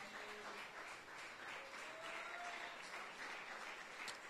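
A church congregation applauding to acclaim the Lord during a sermon: faint, distant, steady applause that runs throughout with no break.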